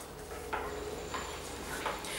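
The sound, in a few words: mixing chocolate and coffee truffle mixture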